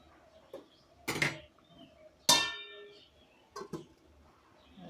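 Metal pot lid set onto a pot of half-cooked chicken curry on a village kitchen stove, a sharp ringing clang standing out among a few softer clinks and knocks, fairly close and without talk.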